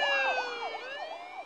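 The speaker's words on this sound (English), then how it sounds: "And more police cars." Police car sirens in The Walking Dead game wail in repeated rising and falling sweeps, loud and fairly close, with layered harmonic tones and no speech over them.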